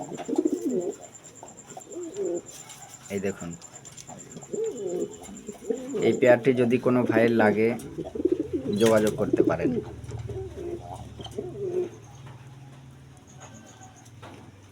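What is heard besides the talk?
pigeons cooing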